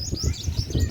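Crows and cuckoos call outdoors near a rooftop terrace after overnight rain, a brief burst of bird chirps over a low background rumble.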